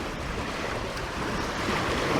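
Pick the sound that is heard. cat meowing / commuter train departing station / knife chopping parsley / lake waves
lake waves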